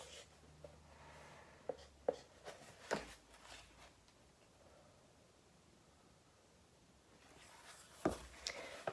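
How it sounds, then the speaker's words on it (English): Pen or pencil scratching on paper in short, quiet bursts separated by pauses, with a few sharper taps and rustles in a hushed room. "I'm going to write it at the top of my paper"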